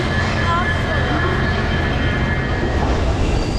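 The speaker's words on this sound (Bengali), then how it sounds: "আমাদের ট্রেন চলে এসছে, আমরা এখন যাচ্ছি সবাই একসাথে।" A Bokaro Express train at a station near Purulia, a loud continuous rumble of the moving train with steady broadband noise throughout, close and unbroken.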